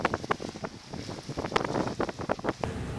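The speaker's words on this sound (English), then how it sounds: "Wind's gusting a little bit, sea's a little lumpy." Gusting wind buffets a sailboat running downwind on a lumpy sea off Scotland's west coast, a steady rushing roar with rising and falling gusts, microphone buffeting and faint water noise close by.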